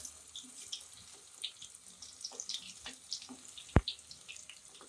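Cauliflower fries in a pan, giving a steady close hiss of sizzling oil with scattered crackles and one sharp click partway through.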